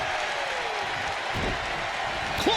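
A wrestling arena crowd in WWE 2K25 cheers and applauds in a steady, dense roar that fills the whole stretch, with a commentator's voice faintly underneath.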